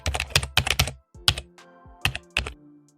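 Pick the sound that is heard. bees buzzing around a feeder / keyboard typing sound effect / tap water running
keyboard typing sound effect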